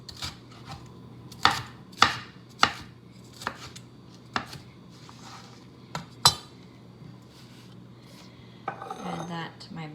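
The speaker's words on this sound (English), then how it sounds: "It's a bright red, fresh red pepper. And then again, I'm slicing this into small pieces." A knife slices a bright, fresh red pepper into small pieces on a board: a run of sharp, separate chops spaced unevenly, then a soft rustle of pieces being moved at the end.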